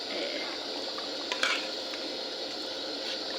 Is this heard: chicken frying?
yes